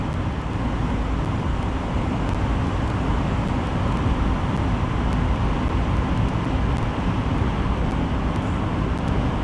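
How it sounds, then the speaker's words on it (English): A noisy truck driving on a road, recorded from inside the cab: a loud, steady rumble of engine and road noise continuing without a break, with no talk over it. "you won't believe how noisy this truck is"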